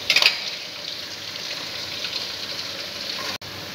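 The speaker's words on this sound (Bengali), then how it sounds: "মশলাটা কষিয়ে তারপর চিকেন দেব।" Spice masala paste for chicken curry sizzles steadily in a hot pan, a close, even frying hiss with a brief clatter at the start.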